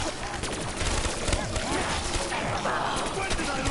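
Rapid, dense bursts of hip-fired automatic gunfire in the video game Black Ops 3, crackling almost nonstop and close up, with voices partly audible underneath.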